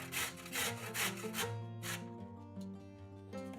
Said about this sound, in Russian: Одну морковь трем на крупной терке.